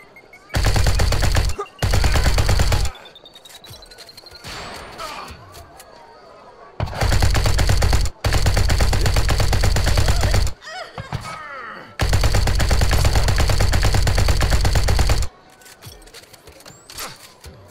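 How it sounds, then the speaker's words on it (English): Automatic weapon fire in the space game SpaceBourne 2, loud sustained bursts of rapid shots cutting off abruptly between pauses, with quieter game ambience in the gaps. "Now we just got to shoot people."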